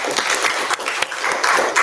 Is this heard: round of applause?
yes